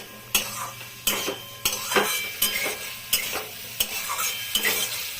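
Prawns and potatoes frying in spicy masala on a raised gas flame, stirred with a utensil that scrapes the pan in regular strokes about every half second over a steady background sizzle, with no talking.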